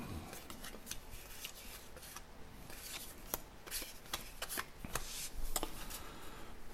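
Baseball trading cards from a 1991 Score pack being handled and shuffled, giving a steady stream of crisp, papery flicks and snaps up close, quiet and continuous with no talking.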